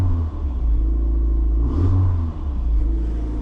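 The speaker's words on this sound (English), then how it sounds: "The turbo sounds are just stupid." A Toyota MR2 Turbo's engine hums steadily and close, cruising at around 3,000 RPM on a motorway, with a deep low rumble and a brief swell partway through.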